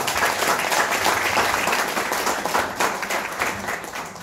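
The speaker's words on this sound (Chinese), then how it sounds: "给大家一个热烈的掌声" An audience at a speech event claps in a dense, continuous burst of applause, loud and close at first, then easing slightly toward the end, with no voice over it.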